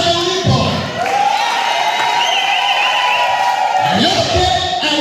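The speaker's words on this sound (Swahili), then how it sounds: "piga kelele na kushangilia pale ulipo" A church congregation in full voice, shouting and cheering together at a worship service, loud and sustained, with one voice rising above the crowd and bursts of noise swelling at the start and end.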